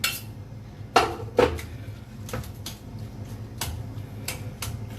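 A spoon scrapes and clinks against a bowl while cooked food is mixed, with a few sharp knocks and a steady scraping in between, close up and without talking.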